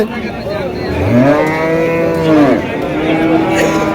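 At a busy cattle market, a bull or cow lets out a long, loud, rising moo nearby, followed by a second drawn-out bellow, set against a low murmur of crowd noise.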